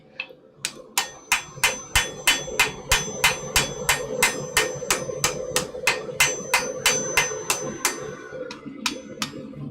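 A hammer taps steadily on metal in a smithy, about two dozen sharp, ringing strikes at an even, quick rhythm, close and loud with no talk.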